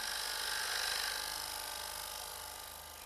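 Wood lathe spinning a cross-grain bowl as a square high-speed steel cutter shears the wood, a bright, hissing scrape over a low motor hum that slowly fades, with no speech.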